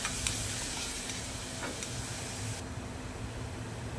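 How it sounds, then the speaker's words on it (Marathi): Finely chopped tomato sautés with onion in a pan for Konkan-style vatane bhat, giving a steady bright sizzle and hiss with faint stirring scrapes underneath, close and continuous. "कांदा व्यवस्थित परतून झाल्यानंतर त्यात घालायचं बारीक चिरलेलं टोमॅटो। तो व्यवस्थित परतून घ्यायचो।"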